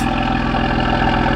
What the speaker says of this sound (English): That idle sounding lovely and beast.